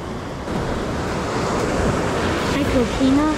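Ocean waves breaking in the surf at Stumps Pass beach, a steady close wash of water with wind noise over the microphone, and a brief voice near the end.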